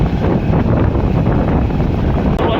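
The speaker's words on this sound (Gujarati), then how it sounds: "હાલ પવન પણ ફૂલ છે તો અવાજ તમારે અહીંયા નહીં પૂગતો હોય તો માફ કરજો" Strong wind buffets the microphone on an off-road village ride, a loud, steady roaring rumble that fills the whole stretch without a break, with no voices heard.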